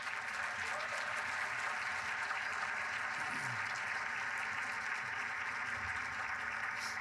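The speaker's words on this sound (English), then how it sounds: "So give them a big round of applause." Sustained audience applause for a middle school all-county band fills the room at a steady, dense level throughout, with faint crowd murmur underneath.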